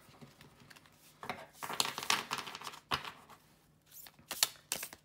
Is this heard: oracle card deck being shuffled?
yes